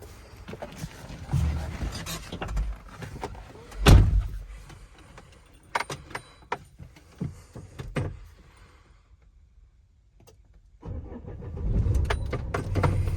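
Renault Trafic 2005 van with a 2.5 dCi diesel engine, heard with loud clunks and knocks, a burst as the engine starts, then quiet idling before a louder rumbling run returns near the end.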